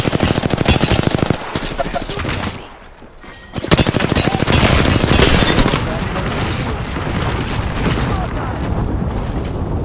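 Rapid automatic gunfire in the Apex Legends battle royale game, with dense bursts and a brief lull before heavy firing resumes, loud and close with booming impacts.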